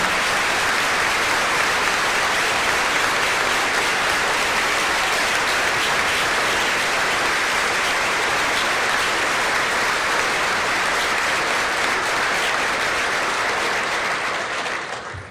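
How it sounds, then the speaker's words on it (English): Sustained applause from a large audience of tourism industry leaders after a governor's address, steady and dense for about fifteen seconds before tapering slightly at the end. "round of applause again for the wonderful words and wisdom."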